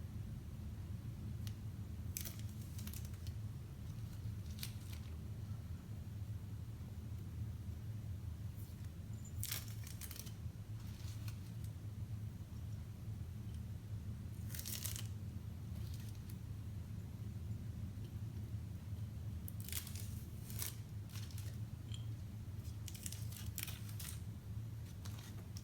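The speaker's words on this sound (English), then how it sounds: "I'm going to pull off the tape and reveal our checkered pattern here." Tape is peeled in short bursts from a painted mason jar, each strip giving a brief crackling rip, faint and close over a steady low background hum, with pauses between pulls.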